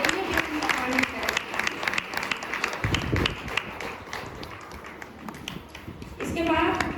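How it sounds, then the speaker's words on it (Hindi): An audience at a gathering of believers sharing testimonies claps with dense, rapid hand claps that come in waves while a speaker keeps talking over them. "ताली बजा दें उनके लिए भी।"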